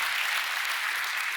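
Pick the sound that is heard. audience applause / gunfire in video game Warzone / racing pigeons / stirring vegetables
audience applause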